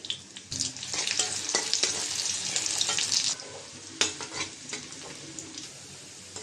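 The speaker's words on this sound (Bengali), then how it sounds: "এই পেঁয়াজ কুচিটা আমি ভেজে নেব" Chopped onions frying in oil for a potato and shing fish curry sizzle close up, with bursts of stirring scrapes and crackle, loud at first, then easing to a softer, steady fry.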